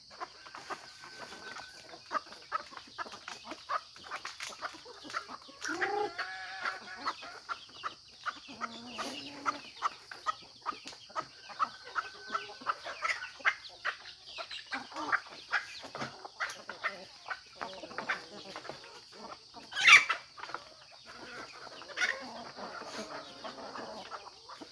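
A mother hen newly released outdoors with her nine chicks gives soft repeated clucks, while the chicks' thin high peeps and chirps keep going throughout at a moderate distance.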